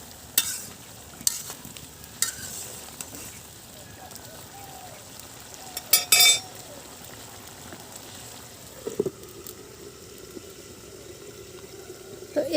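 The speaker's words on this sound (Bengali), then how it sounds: "এখন ঢাকনাটা উঠিয়ে আমি একটু নেড়ে চেড়ে দিব তরকারিটা।" A clay pot lid clanks as it is lifted, and a vegetable curry of stalks and flowers is stirred, with soft scraping and a quiet simmering sizzle in a kitchen.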